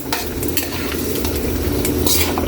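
Pork adobo with soy sauce and oyster sauce being stirred in a hot pan, giving a loud continuous sizzle with scraping utensil strokes up close.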